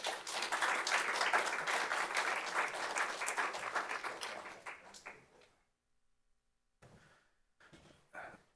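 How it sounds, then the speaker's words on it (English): Audience at a local music community panel event claps in a loud, dense burst that fades out after about five seconds, followed by silence and a few scattered thumps and knocks. "let's give another round of applause for our student presenters"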